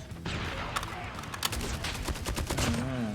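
Rapid bursts of OTs9 gunfire in Call of Duty Mobile, sharp repeated shots in quick strings over game effects, fairly loud and continuous across the stretch.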